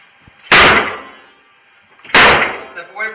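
Police officers force open a door, two heavy slamming impacts about a second and a half apart, each loud and close with a ringing decay, with faint talk between them.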